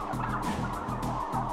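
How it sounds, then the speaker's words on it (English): A dense chorus of turkeys crowded in a farm shed gobbles and clucks continuously, close and busy, with no single bird standing out. "Our hidden cameras documented birds being bullied and pecked by the others,"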